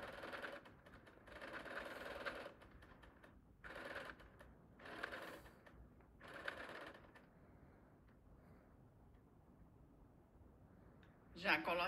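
A sewing machine stitches along the edge of a cloth dish towel in several close, steady bursts of rapid mechanical whirring, separated by short pauses, ending with a sharper clatter.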